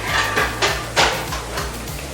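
Cooked lentils for chicken haleem are being ground, a loud close motor hum pulsing with repeated rough whirring bursts over about two seconds.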